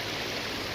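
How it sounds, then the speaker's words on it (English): Creek water rushes and burbles in a steady close wash of sound, brief and continuous with no voices. "So now we're at the creek"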